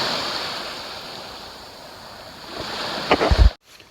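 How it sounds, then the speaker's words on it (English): Ocean waves wash onto a black sand beach in Iceland, a steady close roar of surf that rises as a wave breaks near the end, with wind buffeting the microphone, before cutting off abruptly. "These waves are getting kind of big. I think the tides are rising."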